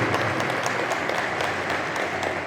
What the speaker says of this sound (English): I ask that you give them a round of applause.